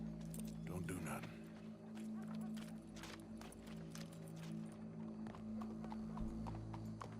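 Horse hooves clip-clopping at a steady walking rhythm in the game Red Dead Redemption, moderately close over a low hum and background ambience.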